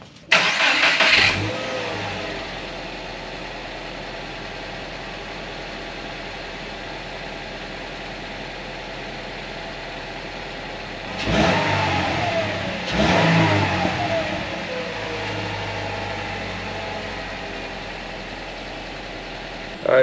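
A Subaru Forester 2.5 with a Nameless exhaust and 5-inch muffler cranks and starts at the beginning, settles into a long steady idle, then gives two sharp throttle revs before idling again, recorded close by.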